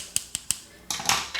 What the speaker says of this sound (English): Tick, tick, tick, tick, scissors.